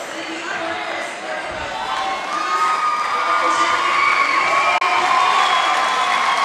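Gym crowd at a high school girls' basketball game cheering loudly as a favorite player is introduced, a dense roar of shouts and whoops that swells and stays loud, with an announcer's voice faintly underneath.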